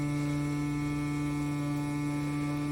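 A battery-powered handheld vacuum pump, its batteries running low, hums steadily and continuously close by, a constant electric drone with no breaks and no voices.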